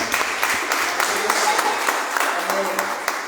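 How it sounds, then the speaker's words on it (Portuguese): An audience at a church service gives a steady round of applause, many hands clapping together, with someone speaking over the clapping. "Pode aplaudir, que legal."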